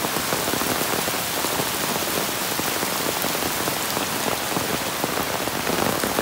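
Heavy rain pours down steadily, a dense, loud hiss of drops hitting surfaces with no pauses.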